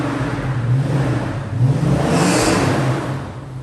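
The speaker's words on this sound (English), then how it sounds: "we're going to bring the 1968 Chevrolet C3 and put her in for the night." A 1968 Chevrolet Corvette C3 rolls into a garage on a rainy night, its engine running steadily with a mid-pitched drone that swells slightly partway through, close by and without talk.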